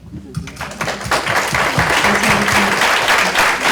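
Steady applause from a crowd, dense clapping that rises quickly and holds loud for several seconds.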